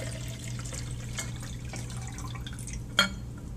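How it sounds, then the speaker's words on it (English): Water drips from an overflowing displacement can into a sink: a quiet room with a low background hum, then one distinct, close drip lands near the end. "you fill the can until it's overflowing. And water starts to drip out the end."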